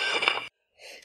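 A single sharp sneeze from a person on a podcast about Ross rifles, a loud burst followed by a short silence and a softer breathy exhale.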